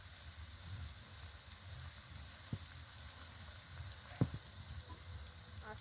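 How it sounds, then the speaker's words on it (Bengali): Sweet khaja dough pieces fry in plenty of hot oil in a large wok, a soft steady sizzle with a few sharp pops and clinks, fairly quiet and with no speech. "এবার এগুলো তেলের মধ্যে ছেড়ে দেব"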